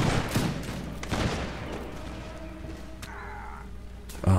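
Musket volley from the Napoleonic Warfare: L'Aigle game, set in the War of the Fifth Coalition: a ragged crackle of shots bursts out early, with a second flurry soon after, then trails into a low rumbling battlefield ambience.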